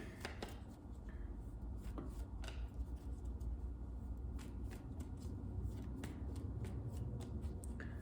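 Tarot cards being shuffled and drawn, a quiet run of rapid riffling with sharp snapping flicks at irregular intervals, close up against a low steady background, no voices.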